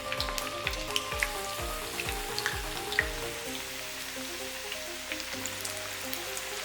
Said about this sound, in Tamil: எண்ணெய் நல்லா காஞ்சி விட்டு இதில் போட்டுடலாம்.